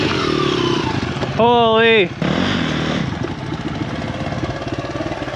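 An enduro motorcycle engine labours and revs in a rough, pulsing burble while climbing a hard trail, heard close up, with a rider's brief exclaimed voice over it midway.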